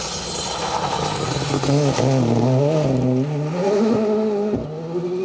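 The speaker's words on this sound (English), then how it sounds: "Isn't that a great looking colour scheme from George Vasilakis and Thomas Korsic in that M Sport Fiesta Rally 2?" An M-Sport Ford Fiesta Rally 2 rally car on a gravel stage, its engine loud and close, revving through gear changes with rising and falling pitch across the whole stretch.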